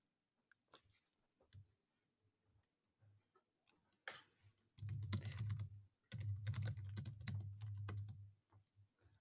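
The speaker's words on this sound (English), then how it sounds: "I'm typing into the chat." Typing on a computer keyboard during an online sales webinar: scattered soft key taps at first, then two dense bursts of rapid clattering keystrokes, close and fairly quiet, with no speech over them.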